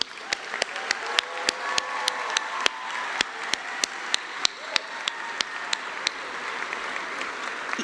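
Audience applause at a medical school white coat ceremony, a sustained wash of clapping from a large crowd with sharp individual claps standing out throughout.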